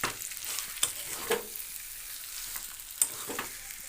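Spice paste for chicken curry sautéing in oil, a soft continuous sizzle broken by several sharp scrapes and clacks of stirring, fairly quiet and close.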